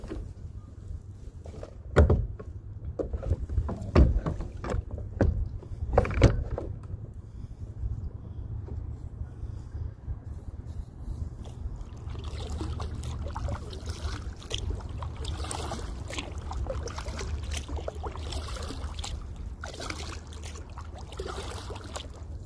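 Kayak paddles are pulled out and used on a river while catfishing in Indiana: a few hollow knocks against the hull come first, then steady trickling and splashing water from close, repeated strokes.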